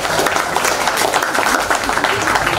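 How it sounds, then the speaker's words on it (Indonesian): A crowd claps steadily and densely at the launch of an Alfamidi industry marketing class at a vocational school, a continuous wash of applause that holds for the whole stretch. "Tepuk tangan buat kita semuanya."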